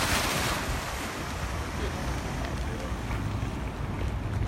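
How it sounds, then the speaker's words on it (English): At a fire scene, fire department hose lines fill with water: a steady, loud broadband rushing and hissing roar with no letup, mixed with outdoor wind noise and no clear talk. "So the fire department here is energizing its lines. The lines are filling with water right here."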